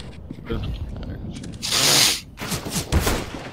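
Gunfire in a shooter video game: a sustained loud burst of shots in the middle, with scattered shots and game mechanism clicks around it, under excited player chatter and laughter.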